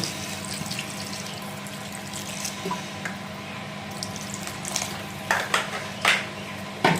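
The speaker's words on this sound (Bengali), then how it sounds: "আলুটা সেদ্ধ হওয়ার জন্য পরিমাণ মতো জল দিয়ে নেব।" Water poured into a pan of spiced potatoes for a rui fish curry with eggplant, heard as a low steady wash with faint scraping, then a few louder stirring splashes near the end.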